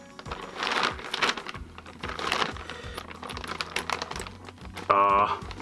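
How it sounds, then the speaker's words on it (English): Blunt scissors snip and crinkle through a plastic bag of 50p coins, with bursts of crumpling and cutting across the clip and a louder rustle near the end, under intermittent talk. "Ah, trusty blunt scissors."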